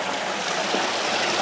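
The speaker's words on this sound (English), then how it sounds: "So you see the water coming in." Water pours steadily into a mineral separating vat, a constant rushing, splashing flow at close range with no voices, even in level throughout.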